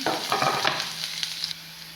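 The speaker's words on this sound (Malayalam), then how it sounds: "ഉള്ളിയും ഇഞ്ചിയും പച്ചമുളകും കൂടി ഒന്ന് വഴറ്റിയെടുക്കണം" Onion, ginger and green chilies sauté in a pan for a stingray curry, with a bright sizzle and scraping stirring strokes close by, and no voices.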